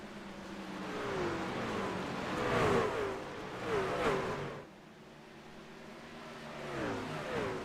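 NASCAR race trucks roar past at Bristol, engines rising and falling in pitch as packs sweep by, a sustained mid-distance drone that fades briefly before another truck approaches.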